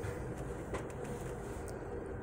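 Inside the lower level of a sleeper car on the Amtrak Coast Starlight, Train 11, a steady low rumble of the moving train fills the space with faint rattles and no one speaking.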